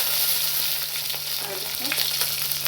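Ajwain seeds and green chilies crackle and sizzle in hot oil in a pan, a dense, close frying hiss with a few stirring scrapes, made while cooking an Assamese fish egg curry.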